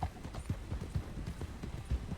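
Horse hooves clip-clopping in a steady, rapid rhythm in a Western roleplay game, continuous and close throughout with no clear talk.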